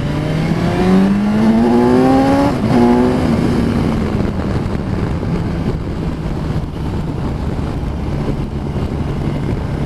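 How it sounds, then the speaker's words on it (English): A 2020 BMW S1000 XR motorcycle's engine revs climb in rising harmonic sweeps, then settle into a steady loud drone with heavy wind rush throughout, close and continuous. "You can feel that engine reach its second peak as well"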